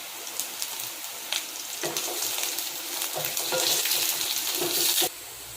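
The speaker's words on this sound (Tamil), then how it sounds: "இது கூட ஒரு கொத்து கருவேப்பிலை ஆட் பண்ணிக்கலாம்." Curry leaves and chopped onions sizzle and crackle in hot oil in a pan for a Tamil banana-leaf fish roast, with steady close frying noise and brief stirring bursts, no talking.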